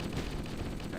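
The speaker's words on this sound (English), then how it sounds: "That's all, it's a shotgun." Shotgun fire from Halo: Combat Evolved, heard as a dense, loud burst of gunfire with heavy low-end rumble, filling the short moment with no clear pauses between impacts.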